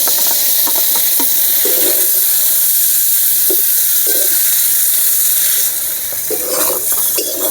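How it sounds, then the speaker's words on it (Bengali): Pieces of paneer fry in hot oil in a pan, giving a loud, continuous hissing sizzle up close with occasional brief spits and bubbles and no talking. "আমি পনির ভেজে নেব।"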